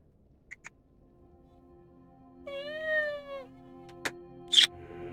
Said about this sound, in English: Hello, cat, rubbing up against my leg.